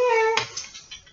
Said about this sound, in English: This is my kitty. He's a chinchilla Persian.